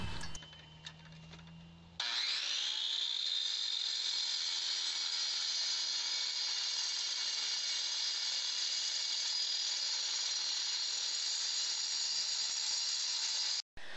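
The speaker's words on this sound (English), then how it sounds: "When these diamonds start spinning and come in contact with concrete, the concrete loses" A diamond-tipped saw blade spins up and scores concrete, a loud steady high-pitched grinding whine that runs for about twelve seconds after a brief startup, then cuts off abruptly.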